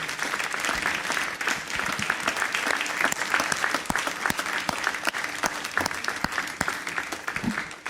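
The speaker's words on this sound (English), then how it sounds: "it's now time for us to do a very, very vibrant and loud celebratory round of applause" A crowd at a Ghanaian awards ceremony applauds as the winner is welcomed to the stage, a sustained, fairly distant wash of clapping with a few sharper individual claps standing out, fading slightly at the close.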